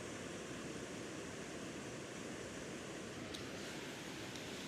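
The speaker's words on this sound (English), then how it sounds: "right at this beautiful waterfall." A waterfall on the north branch of the Lady Evelyn River in Temagami roars as a constant, even wash of rushing water, close and unbroken, with no voices.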